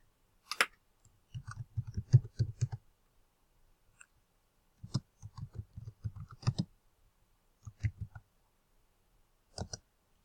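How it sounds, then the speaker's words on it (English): Bursts of keystrokes on a computer keyboard while entering database records, clustered in quick runs of clicks with pauses between, fairly close and clear with no talking. "I want you to type in minimum amount due"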